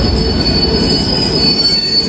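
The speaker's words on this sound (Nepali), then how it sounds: "ट्रेन चाहिँ आइसकेको छ अब हामी यो ट्रेनमा चढेर वर्सासम्म चाहिँ सवार गर्दैछौँ" Train pulling into a station on the way to Warsaw, Poland, its wheels squealing with a loud, steady high metallic screech over rumbling rail noise, close by and continuous, with no talking.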